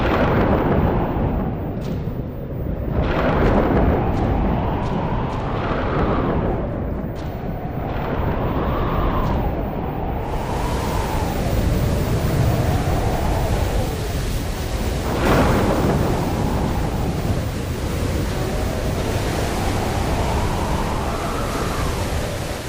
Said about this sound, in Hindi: अचानक तेज जल वृष्टि के साथ तूफान आया।